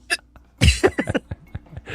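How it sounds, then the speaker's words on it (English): Hiccups during a live stream: a sharp, brief catch near the start, then a cluster of short, close, uneven bursts with quiet gaps between them. "I just had the hiccups."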